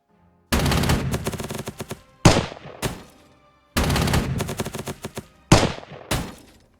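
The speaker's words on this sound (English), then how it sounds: "And I will also give it an artillery strike." Artillery strike in the Panzer Corps 2 strategy game, heard as two rounds of rapid, dense gunfire bursts, each followed by sharp loud blasts that ring out and decay, with no talking.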